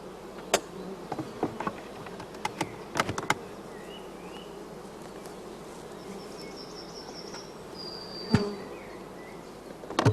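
Honey bees buzz steadily around a closed hive, a continuous low hum with occasional louder passes and faint clicks and taps, fairly close and with no talking.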